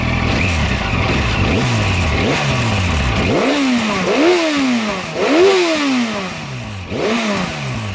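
A motorcycle with a stock exhaust is revved repeatedly, each blip rising and falling in pitch, with about six loud, close throttle bursts over a running idle.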